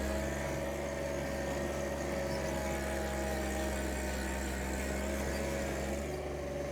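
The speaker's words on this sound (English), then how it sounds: "put this thing in gear, rev it up, and here we go" A vehicle engine runs steadily at a constant drone with a strong low hum, moderately quiet and unchanging, with no clear rise in revs and no voices.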